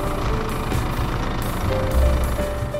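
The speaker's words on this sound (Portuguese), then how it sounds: "E o Gustavo vai tirar o carro, vai manobrar." A camper vehicle manoeuvres slowly among trees at a wild campsite near a dam in San Rafael, its engine a steady close low rumble that swells briefly, with a faint tonal whine and no talking.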